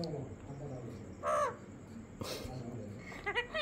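A pet parrot imitates a crow's caw in short harsh calls, one near the middle and another later, with a person's voice coaxing it between the calls indoors.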